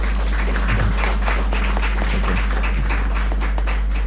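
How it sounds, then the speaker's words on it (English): Graduates at an academy graduation ceremony applaud themselves, a loud, close, continuous patter of many hands clapping steadily throughout. "So give yourselves a round of applause."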